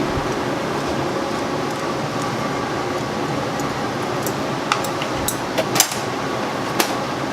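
A newly installed glass furnace in a hot shop gives a steady, loud broadband roar that runs throughout, with a few sharp clanks and knocks near the end.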